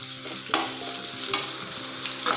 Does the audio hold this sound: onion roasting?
yes